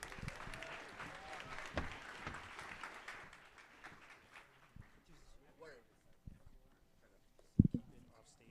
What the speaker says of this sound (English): So please give Blobscan a big round of applause.